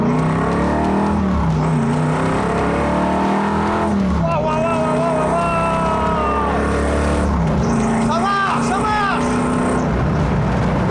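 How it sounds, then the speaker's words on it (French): A car with an old-school V8 engine accelerates one final time, a broad engine roar rising and shifting over several seconds, with people talking over it. "Dernière accélération."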